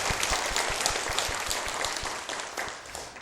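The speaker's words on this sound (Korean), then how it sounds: "우리 하나님께 영광의 박수를 올려드립니다" Congregation applause fills a church, dense steady clapping from many hands sustained through the moment, fairly close and without speech over it.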